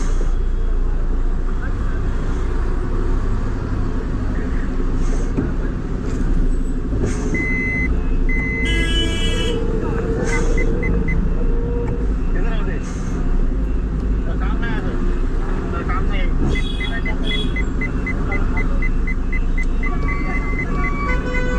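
A delivery vehicle edges forward to park in busy Mumbai street traffic, a continuous low engine rumble with passing vehicles and intermittent horn and beeping tones around it; voices are heard faintly in the background.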